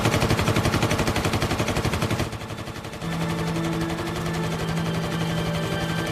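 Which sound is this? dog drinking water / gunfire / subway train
gunfire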